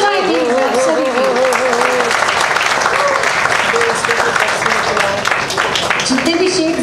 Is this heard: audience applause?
yes